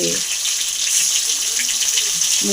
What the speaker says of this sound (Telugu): ఇప్పుడు నెక్స్ట్ అవి కొంచెం వేగిన తర్వాత వంకాయ ముక్కలు ఆయిల్లో అలా పడుతుంటే